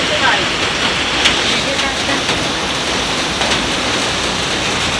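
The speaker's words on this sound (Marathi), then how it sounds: "सो गाईज एवढा पाऊस पडतोय." Heavy rain pours steadily outside, heard from a home gallery off the bedroom and kitchen, a dense continuous hiss with scattered drip accents and no breaks across the stretch.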